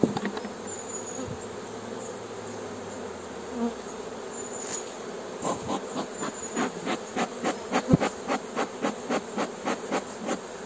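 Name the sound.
wild honeybee swarm buzzing around a hive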